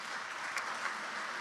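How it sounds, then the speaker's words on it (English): An audience at an education awards gala applauds, a dense, even patter of many hands heard faintly and steadily for a brief moment. "So give yourselves a round of applause."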